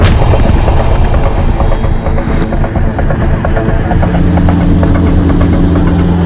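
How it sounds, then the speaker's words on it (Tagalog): Two China Coast Guard helicopters fly close overhead, a loud, continuous rotor thump and engine roar dominating throughout with a steady low drone. "Nagpalipad sila ng 2 helicopter."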